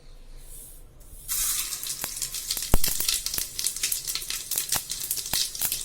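Mustard, cumin and fenugreek seeds dropped into hot oil, a sudden bright sizzle that starts after a quiet pause and keeps crackling and popping steadily, close and fairly loud.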